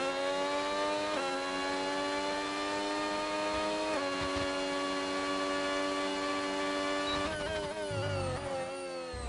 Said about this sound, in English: I'm going back on board because that Ford engine sounds amazing